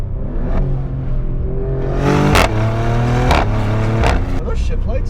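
A Maserati Grecale Trofeo SUV accelerating hard, its engine note climbing and then dropping sharply at each of several quick gear shifts, close and loud, with a voice speaking over part of it.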